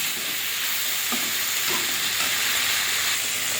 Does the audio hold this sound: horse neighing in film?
no